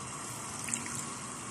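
A little water is poured onto big-grain couscous being made with onions and tomatoes, a soft, steady trickle and splash lasting a moment, faint and close.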